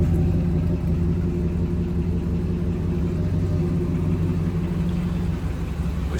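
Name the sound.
Chevy Squarebody truck small block engine running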